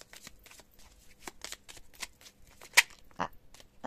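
Small tarot cards shuffled by hand, a run of quick soft riffling flicks and slaps with one sharper snap near the end, close and fairly quiet with no talk.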